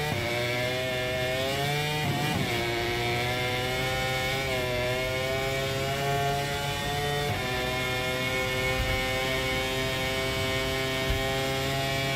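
A Ducati racing motorcycle engine in the MotoGP 24 video game drones steadily and loudly throughout, its pitch rising and dipping as it accelerates and brakes through tight corners, with no talk over it.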